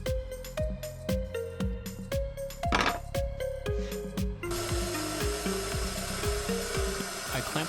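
A WEN Portaband saw clamped in a vise cuts through a metal plate, a steady harsh grinding rasp with repeated sharp knocks early on, then a continuous bright high screech of blade on metal near and loud.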